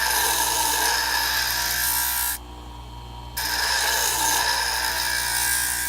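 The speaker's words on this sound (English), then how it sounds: "Then we're going to hold it at a 90-degree angle to the top of the grit wheel." Valkyrie broadhead held against the top of a rotating grit wheel, making a continuous high grinding whir that briefly softens when contact eases and then resumes, close and steady.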